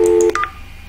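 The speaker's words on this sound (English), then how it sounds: "See, it's dialing the other phone." Several short DTMF dialing tones from a Cisco IP phone, a quick run of clear beeps close up, alone and ending in quiet.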